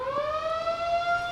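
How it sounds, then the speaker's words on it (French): A wailing siren signals the end of an exam session at a test centre, its steady tone slowly rising in pitch with strong harmonics, sounding continuously and moderately loud throughout. "Lorsque retentit la sirène,"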